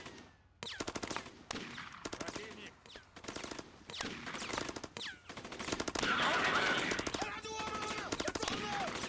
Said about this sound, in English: The machine guns are great.